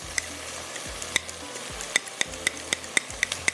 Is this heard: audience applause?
no